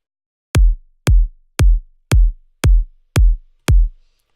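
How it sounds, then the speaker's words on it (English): A low kick drum sample plays alone, seven deep booming hits at an even, steady pulse, each with a sharp attack and short low rumble, close and loud with silence between. "And we also have a low kick doing the low end."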